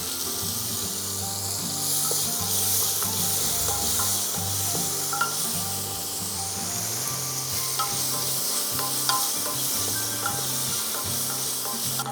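Sliced onions sauté in a pan for Kerala chicken mappas, giving a steady, close sizzle with intermittent scraping stirs and light clinks throughout, and no talking.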